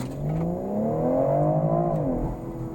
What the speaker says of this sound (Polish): BMW M140i to najbardziej naturalnie brzmiący hot hatch na rynku.